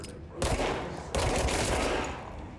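Gunfire aimed at floaters in the video game Control: dense volleys of shots, one starting sharply and a second barrage slamming in about a second later, loud and sustained throughout.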